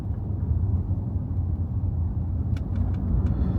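A Tesla Model S Plaid under full-throttle acceleration gives a steady, loud low rumble of road and motor noise inside the car, with a few faint high clicks near the end.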